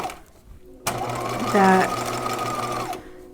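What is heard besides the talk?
sewing machine sewing a gown seam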